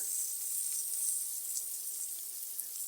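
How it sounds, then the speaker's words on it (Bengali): Japanese punti fish pieces frying in oil in a wok, a steady bright hiss of sizzling that holds evenly throughout without talk. "কড়াইতে মাছ ভাজা চলছে।"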